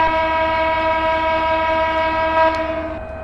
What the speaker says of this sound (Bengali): হর্ন দিলাম